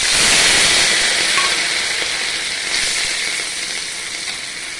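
Prawns go into hot oil tempered with bay leaf and radhuni, producing a loud, steady close sizzle that fades slightly over a few seconds.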